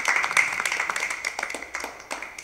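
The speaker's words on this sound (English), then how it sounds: "Let us give them a hearty clap for they've done a good job" Audience clapping for children at a church children's ministry service, a steady patter of many hands close by, continuing evenly throughout without talk.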